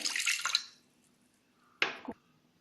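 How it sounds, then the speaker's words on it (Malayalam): Water splashes into a pot of sambar lentils (toor dal) before pressure cooking in a home kitchen: a half-second rush of pouring, then quiet, then a second short splash, close and clear with no voices. "ആവശ്യത്തിനുള്ള കുറച്ച് വെള്ളം ഒഴിച്ച്"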